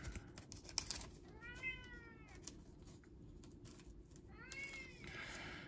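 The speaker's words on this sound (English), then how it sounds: "And you can hear my cat again." A pet cat meows repeatedly at moderate distance, two drawn-out meow calls with rising and falling pitch amid quiet room noise, with no talking.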